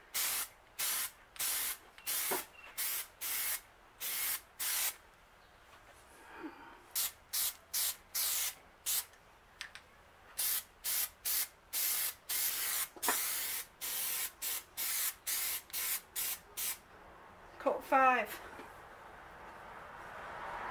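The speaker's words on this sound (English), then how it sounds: "I'm doing a couple of sprays before I start spraying" Repeated short bursts of Plasti Dip aerosol spray hissing from a can, close and loud, in quick rhythmic pulses separated by brief pauses, with a few faint clicks.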